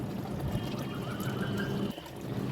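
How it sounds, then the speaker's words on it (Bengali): Water is poured onto garden plants in a steady, close splashing trickle that runs continuously, then briefly breaks off before resuming. "গাছগুলোতে আমি জল দেওয়া জল দেওয়া শুরু করে দিয়েছি"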